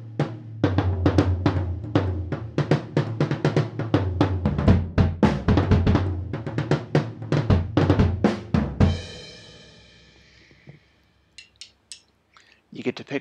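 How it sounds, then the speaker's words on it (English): Two high-pitched rototoms from a drum kit, struck in a quick, busy pattern of sharp tonal hits for about nine seconds, ending in a ringing decay and a few scattered light taps. "So the high 2 rototoms sound like this."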